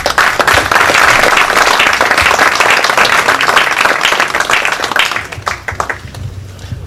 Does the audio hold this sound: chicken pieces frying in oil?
no